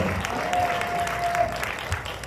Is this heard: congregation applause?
yes